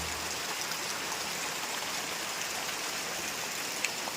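Light drizzling rain patters steadily in a village, an even soft hiss of fine drops that carries on unbroken with no voices present.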